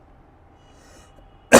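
A teacher gives one short, sharp cough at the end after near silence, close and loud.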